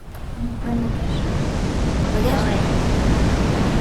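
Tsunami wave crashing in a Roblox survival game: a steady broad roar of rushing water rising and holding loud throughout, with faint brief tones at the start.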